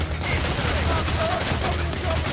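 Gunfire in the video game Payday: The Heist, shot into the air, forms a dense, continuous rattle of rapid shots at an even, loud level throughout.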